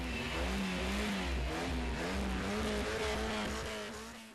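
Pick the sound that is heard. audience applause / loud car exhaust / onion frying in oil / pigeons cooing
loud car exhaust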